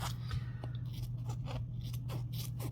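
Tim Holtz scissors cut fabric close to embroidered stitching on a zipper piece made on a Baby Lock Flare embroidery machine, giving a quick series of close, crisp snips and crunches over a low steady hum.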